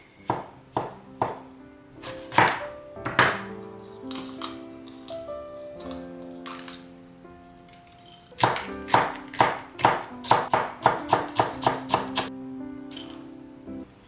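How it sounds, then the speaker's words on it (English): A knife chops mushroom into small pieces on a cutting board in quick bursts of sharp, close thuds, some slow and spaced, others in fast runs of about a dozen strokes, with no talking. "so I'm gonna cut into really small pieces"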